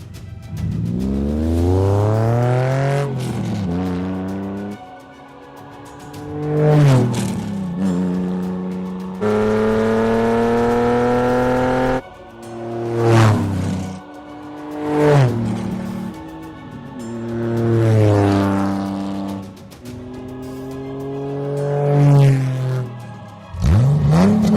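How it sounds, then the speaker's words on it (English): The Mongoose vehicle engine from Halo Infinite revs repeatedly, several rising and falling whines with steady held passages between them, loud and close with no other sound. "Sounds like the sound of a future Mongoose."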